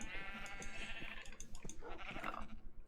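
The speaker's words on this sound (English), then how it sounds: "I'm also not used to having to take 4 hits to kill these sheep." Sheep bleating in Minecraft with the Better than Wolves mod: a wavering bleat heard close, followed by a second cry, over a busy game background.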